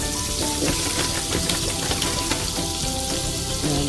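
Flour added to melted butter in a pan for homemade béchamel sauce sizzles and fries in a steady, loud, close hiss that continues unbroken, with no talking.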